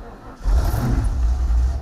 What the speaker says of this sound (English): So you can hear the car running, everything's fine.